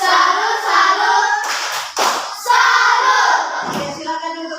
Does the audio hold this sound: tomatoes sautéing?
no